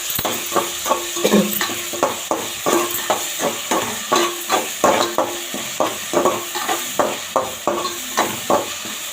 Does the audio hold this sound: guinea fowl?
no